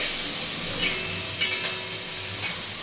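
Cumin seeds sizzle in hot oil in a pan, a steady bright hiss broken by a few brief, sharper crackling bursts, close by with no one talking.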